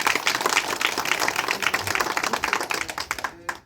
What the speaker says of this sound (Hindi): जिला पंचायत महोदय जी तक पुनः जोरदार ताली बजा जाए